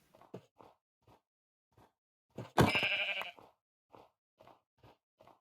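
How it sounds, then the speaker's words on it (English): A Minecraft sheep lets out a single loud, wavering bleat in the middle of the clip, standing out between short, faint game sounds. "Oh, a sheep as well."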